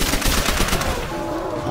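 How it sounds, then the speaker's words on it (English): An MP40 submachine gun fires in a 12-year-old video game, a rapid burst of close, loud automatic shots crackling for about a second before fading into softer game noise. "Ooh, good old MP40. Yeah. It's a classic gun too."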